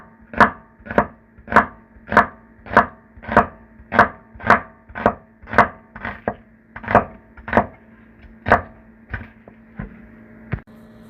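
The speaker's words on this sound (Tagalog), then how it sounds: "And now, slice po natin yung ating sibuyas. Kailangan manipis lang po." A knife slices a small onion thinly on a cutting board, about sixteen crisp, evenly spaced chops, steady at first and then slowing and spreading out toward the end, close up and clear with no talking.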